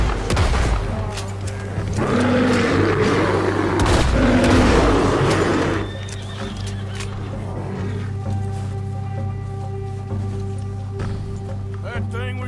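Gunfire in the Western video game Red Dead Redemption 2 during a deer hunt in a spring storm, a burst of loud overlapping shots in the first six seconds, then a steady low rumble with game dialogue and ambience.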